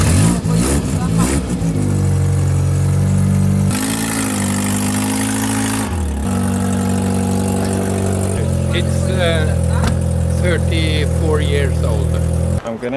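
A blue car's engine starts and idles near the mic during a road trip in Norway, with steady rumbling and several shifts in pitch as it revs up and settles back down over about thirteen seconds.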